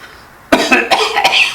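A loud, close cough bursts out after a moment of quiet during an energy healing session, breaking into several harsh, choppy coughs in quick succession.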